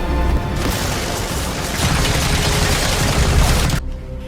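Dense, sustained gunfire from a Little Bird helicopter and heavy booms crash together for a few seconds in a film battle scene, loud and continuous, then cut off abruptly near the end.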